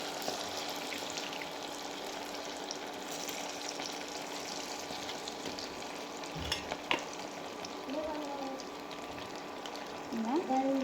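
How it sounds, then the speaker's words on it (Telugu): Chicken pakoda pieces fry in hot oil, a steady broadband sizzle running throughout with brief clatters and a louder bubbling burst near the end; speech is faint or absent. "ఆయిల్ వేడైపోయింది, ఇప్పుడు ఒక పీస్ పకోడా వేసుకుందాం."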